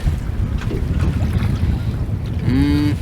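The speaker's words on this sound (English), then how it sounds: "I gotta get out of this wind" Steady, heavy wind buffets the microphone aboard a fishing boat during a spring crappie outing, a dense low rumble with no distinct events and a brief tonal whine near the end.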